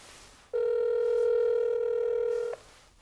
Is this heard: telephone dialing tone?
yes